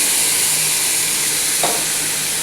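Pumpkin and chickpea curry being stirred in a pan on a gas flame: a steady loud sizzle and hiss of cooking with a brief scraping stir partway through.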